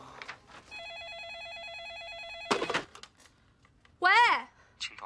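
A telephone rings in a student dormitory, a warbling electronic tone lasting about two seconds, followed by a clatter and a short rising chirp amid faint movement.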